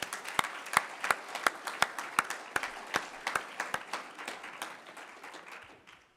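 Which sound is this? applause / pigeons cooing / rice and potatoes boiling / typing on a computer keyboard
applause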